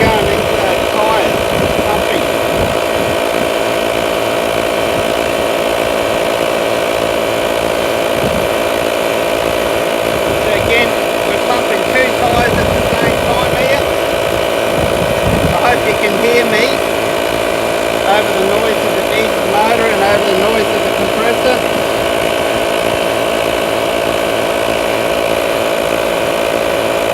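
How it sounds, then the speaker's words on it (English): An air compressor inflates the tyres of a Mitsubishi Pajero 4WD to just over 40 psi, giving a loud, steady motor drone with a buzzing pulse that runs unbroken for the whole stretch, with no voices. "that's maintaining just over 40 psi pressure that's going into those tyres, pumping."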